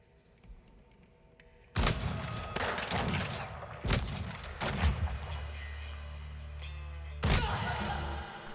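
Gunfire in the video game Weird West, several loud, sharp shots and heavy impacts in irregular bursts, with rumbling aftermath between them over a quiet background.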